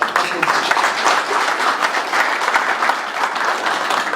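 Dense audience applause fills a hall at a Total Energies Cameroon 2021 football ceremony, steady many-handed clapping held at a constant level throughout without a break.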